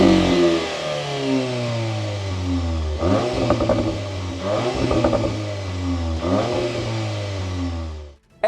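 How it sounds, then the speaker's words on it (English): A 2024 Volkswagen Golf R with a six-speed manual revs hard and steadily in three rising pulls, the engine tone climbing and dropping with a rattly edge. The sound is loud and close, with no talking, and it cuts off sharply at the end. "But for now, listen to that engine."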